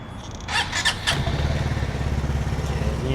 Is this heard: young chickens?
no